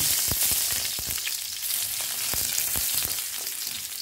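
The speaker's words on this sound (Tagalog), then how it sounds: "ngayon guys ay magigisa tayo ng bawang" Garlic sautéing in a hot pan, with a continuous loud sizzle and crackle and scattered sharp pops and stirring clicks, close up and with no talk.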